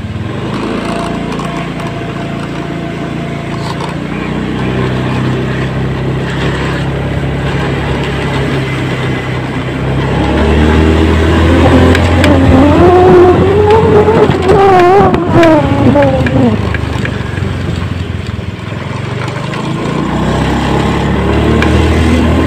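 A Honda Scoopy scooter with an idling stop system, its engine started on the electric starter rather than the kick starter and then ridden off, running at a steady hum that rises into a louder revving surge midway before settling.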